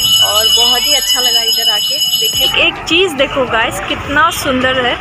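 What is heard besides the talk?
temple bells ringing for evening aarti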